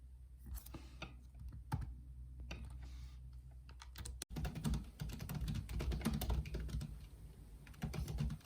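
Rapid, steady typing on a computer keyboard during a writing sprint, close and fairly quiet, with clustered key clicks and brief pauses and no talking.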